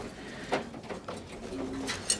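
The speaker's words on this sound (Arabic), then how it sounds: "شوف الحمام كي غادي ياكل مسكين" Pigeons coo softly while feeding, giving several short murmuring calls at close range over a busy background of rustling and pecking.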